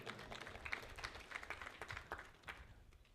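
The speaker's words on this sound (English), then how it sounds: "Let's clap for them." Faint, scattered hand clapping from a small group at a stakeholder meeting with a hotel owners association in Uganda, quiet and somewhat distant, with no voices over it.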